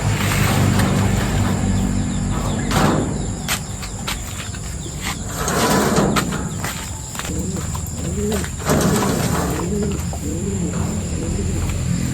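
Pigeons, a flock of young birds kept for training, coo steadily at close range over a constant outdoor background hum and chirring insects, with a few soft wing flutters and rustles and no talking.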